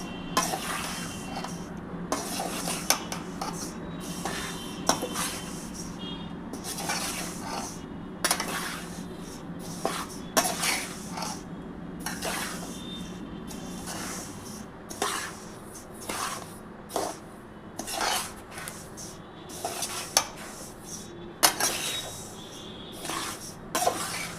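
White sesame seeds being lightly dry-roasted in a pan for laddu, with a steady soft rustle and repeated scraping and clinking of a utensil against the pan, close and irregular throughout.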